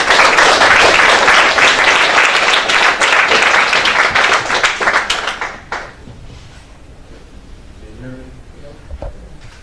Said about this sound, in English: So please give him a warm applause